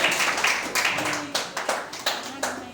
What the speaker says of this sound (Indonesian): Tepuk tangan, masih dikit.